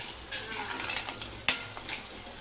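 A spoon stirs garam masala into a soybean curry in a pan, with soft scraping, light sizzling and one sharp metal clink, close and quiet.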